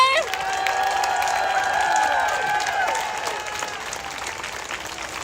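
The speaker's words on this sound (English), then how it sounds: "can we get a round of applause for our banner?" A crowd on a pro-Palestine protest march in DC breaks into loud applause and cheering outdoors, a steady wash of clapping with a few voices rising above it that gradually tapers off.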